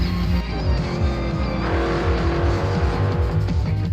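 A Porsche 924 GTP race car roars at the foggy 1981 Daytona 24 Hours start, its engine loud and close with rising and falling revs as it shifts through gears, alone without talk.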